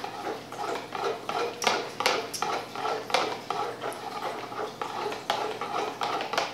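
White soap mixture is stirred in a container, giving a steady series of soft scraping clinks and taps at a moderate pace, close and fairly quiet.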